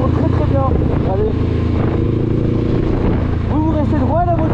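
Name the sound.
Honda trail motorcycle engine while riding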